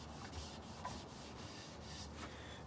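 Wood stain being rubbed evenly across a cabinet door, a soft continuous scrubbing swish with faint repeated strokes, close and quiet with no talking.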